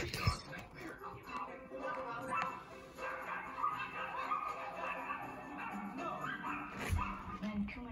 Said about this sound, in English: Chewie's barking at Kuma while Kuma's barking at strangers